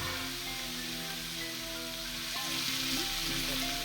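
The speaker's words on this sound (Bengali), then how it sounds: "প্রথমে সর্ষের তেল দিয়ে পুঁই শাক এবং অল্প কিছু আলুকে একসাথে ভেজে নেওয়া হয়।" Malabar spinach and potatoes frying in mustard oil, a steady dense sizzle with constant crackle, a low hum underneath and no pauses.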